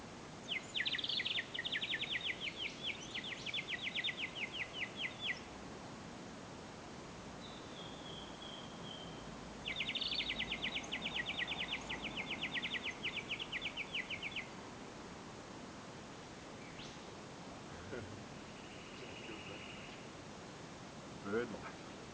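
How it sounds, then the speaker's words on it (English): Birds call near a creek in the Blue Mountains near Blackheath, with two bursts of rapid, repeated chattering notes standing out over a faint, steady background hiss, then only scattered quieter calls. "Bird life."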